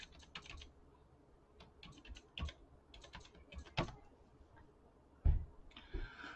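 A password being typed at a computer keyboard for a terminal login, heard as quiet, close, irregular key clicks in short bursts with pauses, then a sharper keystroke near the end, with no speech.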